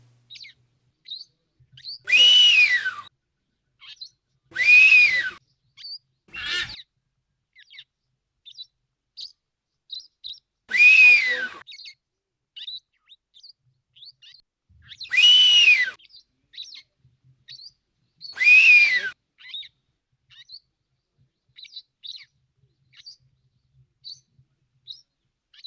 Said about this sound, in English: the smaller male can be seen whistling to attract a mate.